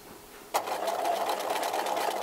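A sewing machine runs in a steady, continuous stitching whir that starts abruptly after a brief quiet moment and holds at an even, close-up level to the end.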